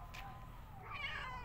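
A pet cat on a farm gives a single short, rising meow, close and clear against faint background noise.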